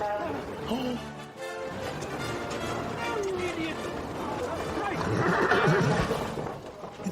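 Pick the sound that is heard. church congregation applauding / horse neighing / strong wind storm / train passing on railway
horse neighing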